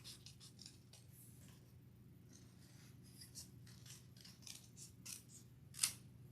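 Scissors snip paper petals out of old book pages, a run of quiet, close cuts and rustles with a sharper snip near the end, no talking over it.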